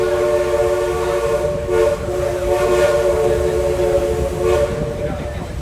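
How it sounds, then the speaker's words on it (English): A 1911 steam locomotive at a railroad museum sounds a long, loud, sustained multi-tone whistle as it departs, steady for several seconds over low rumbling train noise. "our 1911 steam locomotive"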